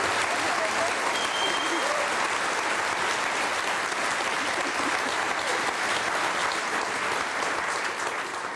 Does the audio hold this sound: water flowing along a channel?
no